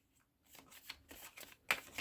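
Tarot cards are shuffled by hand in a few quick riffling bursts, close and fairly soft, ending in a sharper final riffle, with no speech.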